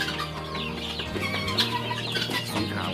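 Chickens clucking in a short burst of overlapping calls, several birds including a rooster close by against steady low background noise.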